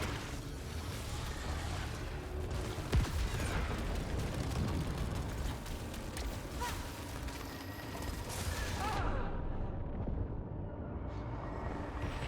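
Dense enemy gunfire in the shooter game Returnal: a steady barrage of mechanical bursts and pops with scattered louder blasts. It runs continuously at moderate loudness, without speech.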